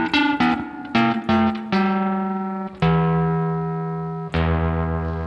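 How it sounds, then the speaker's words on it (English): Electric guitar played through an EHX Ring Thing ring modulator pedal, several plucked notes and then sustained chords with a metallic, inharmonic ringing tone that decays slowly, loud and close, no talk. "You have this ring modulated sound."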